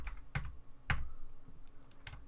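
Typing on a computer keyboard during a Substance Designer material tutorial: a handful of scattered, close key clicks with pauses between them, no voice.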